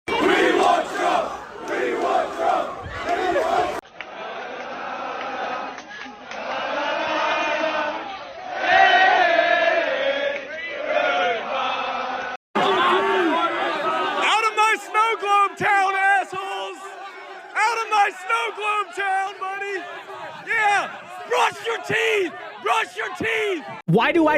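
A large crowd of fraternity students at a protest yells and roars together, loud and sustained. The noise breaks into rhythmic, chant-like shouting bursts in a second stretch.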